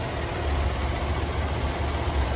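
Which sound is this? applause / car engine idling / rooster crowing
car engine idling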